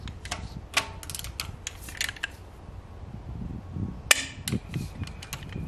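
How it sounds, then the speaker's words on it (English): A torque wrench tightening a plug on a 7.3 IDI turbo diesel engine during a rebuild gives scattered mechanical ratcheting clicks, with one sharp, loud click standing out, all close up against a low workshop hum. "the plug gets torqued to 40 foot-pounds"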